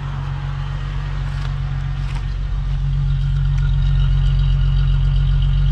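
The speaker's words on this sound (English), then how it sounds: "this car sounds so good. The 12 valves, man, I tell you, the 12 valves got the best sounds" Volkswagen Jetta VR6 wagon with the 12-valve VR6 engine running steadily, a loud, deep low rumble holding even throughout with a slight rise toward the end.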